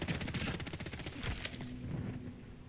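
Rapid bursts of automatic gunfire from Call of Duty: Modern Warfare III on the Grime map, crackling in quick repeated volleys for a few seconds, with other shots and game noise mixed in the background.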